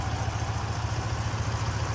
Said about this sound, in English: P5b Rover V8 here, just doing what it's supposed to do.